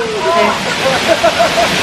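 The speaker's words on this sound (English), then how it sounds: "Hopefully you can hear us over that really cool waterfall in the background." A waterfall rushes steadily in the background, a loud, constant broadband wash of falling water, with people talking close over it.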